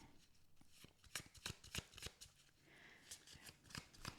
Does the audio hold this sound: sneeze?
no